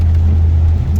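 A 2001 Volkswagen Golf GTI with a custom exhaust drones loudly from inside the car, a steady low rumble with breathy intake roar layered on top, constant throughout with no pauses.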